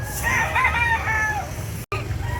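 A rooster crows once, loud and close, at a busy chicken market expo in Carbon Public Market, with crowd noise and low murmur behind it.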